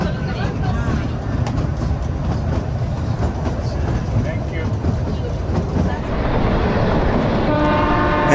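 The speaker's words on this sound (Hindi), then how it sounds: "लगातार सांप की तरह लहराती चल रही है ये हमारी रेलगाड़ी" A train on the Kalka-Shimla mountain railway rumbles along steadily with a broad, continuous roar, metallic rattling and a faint horn-like tone near the end; voices murmur underneath.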